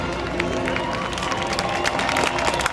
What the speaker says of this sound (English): Now everybody stand up and make some noise